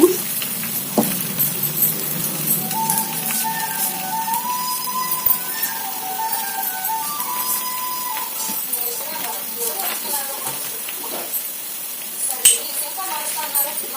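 Coconut oil sizzles steadily in a hot pan where something has been roasted, a continuous close hiss running throughout with occasional clinks, while a voice talks over it.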